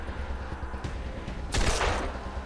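Gunfire from a firefight in the turn-based video game Wasteland 2: a short burst of shots arrives about midway, loud and dense against a low rumbling background, then fades.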